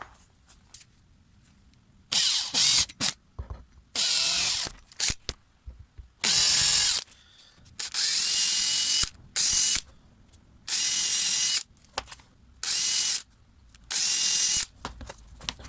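A power drill whirs in repeated loud bursts of a second or two each, drilling small holes while repairing a wood chipper flap, separated by short pauses, close by with no talking.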